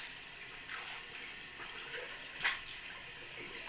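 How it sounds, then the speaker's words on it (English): Hot tap water running quietly into a sink to wet a washcloth during shaving, a faint steady trickle with a few soft splashes. "get the washcloth with some more hot water back on it."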